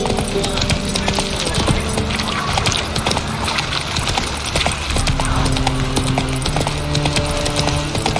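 Roach the horse trots in The Witcher 3, hooves clip-clopping in a steady rhythm, close and clear over game ambience and music.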